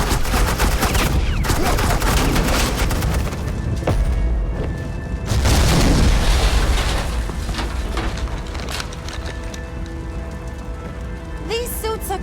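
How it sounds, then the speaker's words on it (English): Sustained suppressing gunfire in Batman: The Enemy Within, a dense, loud crackling barrage running steadily through the scene with a few sharper bursts and no speech. "suppressing fire."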